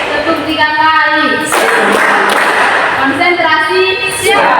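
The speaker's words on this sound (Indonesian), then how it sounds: "Kali, tepuk 2 kali, tepuk 3 kali." Visually impaired children at an inclusive school clap their hands in a counted rhythm. A burst of clapping sits between stretches of a voice giving instructions.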